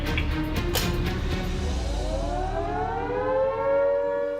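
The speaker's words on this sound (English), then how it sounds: "House alarm's going off." A loud house alarm siren wails steadily, its rising tone sweeping upward and holding, with a few sharp clicks at the start.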